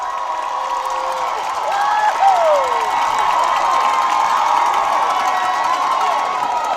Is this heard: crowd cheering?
yes